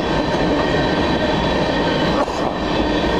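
A sand train rolls through town at low speed with a loud, continuous heavy rumble and faint metallic rattle from the railcars, steady and close throughout.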